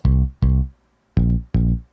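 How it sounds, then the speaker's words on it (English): Bass in a music production plays four deep, punchy notes, each a heavy low tone that decays quickly, in a loose rhythm with a pause before the last two. The notes are loud and up front with no voices. "Then, of course, we have to have the bass."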